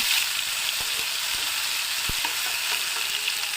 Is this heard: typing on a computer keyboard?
no